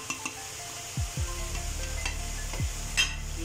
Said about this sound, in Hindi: इस तरह का ये जो हमारा कीमा भून रहा है साथ साथ